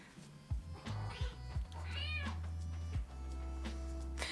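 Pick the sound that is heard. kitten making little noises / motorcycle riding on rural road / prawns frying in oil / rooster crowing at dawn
kitten making little noises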